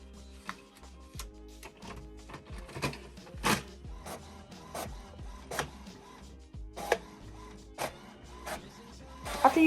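Inkjet printer running a sheet of sticker paper, with steady mechanical whirring broken by repeated sharp clicks and carriage shuttles, loud and close with no voices.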